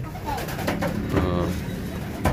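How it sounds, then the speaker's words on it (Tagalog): Racing pigeons coo softly at close range just after returning from a 339 km race, a low burbling call rising above faint background noise. "lahat tong 4 na to is live birds"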